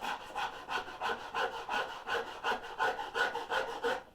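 A farrier's rasp files a wooden boat half-hull model in quick, regular back-and-forth strokes, each a coarse scraping rasp, close and steady, about three strokes a second with no talk.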